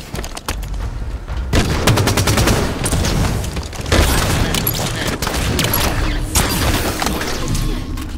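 Shotgun blasts in Halo 5: Guardians during an Arena Infection match on the Riptide map, a rapid series of loud, booming shots mixed with other gunfire and crashing impacts, dense and close throughout.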